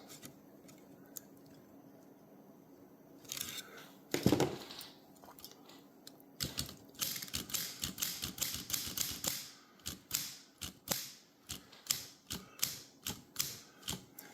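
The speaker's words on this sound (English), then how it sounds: "we'll see if I can't get this typewriter to behave properly and be in proper tune" Smith Corona Skyriter portable typewriter being tested after adjusting its typebar links: scattered key strikes at first, then a steady run of sharp mechanical clacks in an even rhythm, close and clear with no voices.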